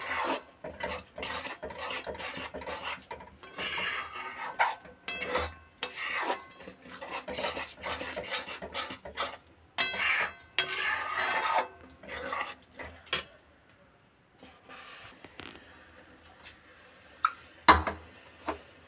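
Thick mango laddu mixture with mango puree stirred in a pan, a steady run of raspy scraping strokes, close and fairly loud, thinning to sparse scrapes near the end, with no talking.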